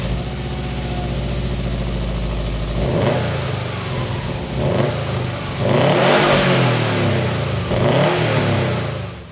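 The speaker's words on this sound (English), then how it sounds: "With the exhaust on, it makes all the right noises." A Subaru Levorg fitted with a new aftermarket exhaust idles with a low steady drone, then revs repeatedly in sharp rising bursts, loud and close with no talking.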